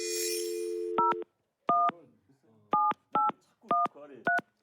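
A phone line's dial tone gives way to a series of distinct touch-tone beeps as a number is keyed in one digit at a time, each tone short, clean and irregularly spaced, heard close and clear.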